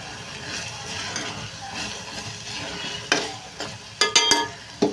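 Smoky fish with mutton keema cooks in a pan, giving a steady low sizzle with stirring, then a few sharp utensil clinks against the pan near the end.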